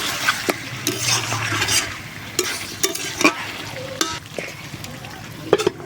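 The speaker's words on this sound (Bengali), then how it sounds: "আর এটা কিন্তু সবসময় নাড়াচাড়া করতে হবে যেন তলায় লেগে না যায়।" Chicken kosha stirred in a pot over a clay stove, a spatula scraping and turning the thick sizzling mixture in close, continuous strokes with occasional sharper knocks.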